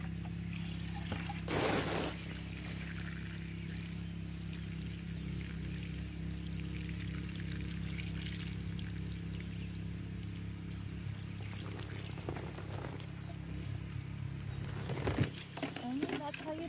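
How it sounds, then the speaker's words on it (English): Water pours onto the soil around a newly planted tomato plant, a soft steady trickle running for many seconds, faint and close, with a voice speaking now and then. "I'm going to give it some water."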